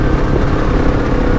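KTM 690 Enduro R motorcycle engine running steadily up close, a continuous low, rough drone with no talk over it, sounding more like a moped than a dirt bike.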